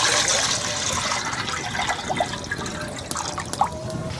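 Water splashing and trickling into a cooking pot on the stove for rice, with faint drips and gurgles over a soft background hiss and no clear speech.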